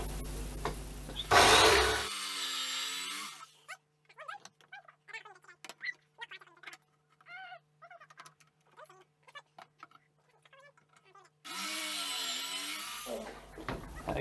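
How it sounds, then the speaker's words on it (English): A Black & Decker drill fitted with a Kreg bit bores pocket holes into wood for a shelf build, two loud whirring bursts at the start and end with quiet talk between them. "We've got a Black & Decker drill set up with the Kreg drill bit, and Luke is going to drill the first hole."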